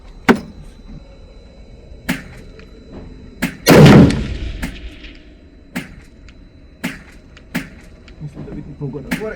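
A rifle fitted with an Aquilifer scope fires a single loud, sharp shot outdoors while being sighted in, with a long rumbling echo, among several fainter distant shots.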